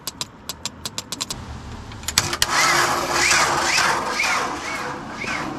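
A 1992 JLG 60H 4x4 boom lift gives a quick series of sharp clicks, then its engine cranks and catches, settling into a loud, steady running rumble with rising and falling revs.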